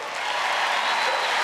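An arena crowd at Crufts dog agility applauds and cheers in a dense, continuous wash of clapping, loud and sustained.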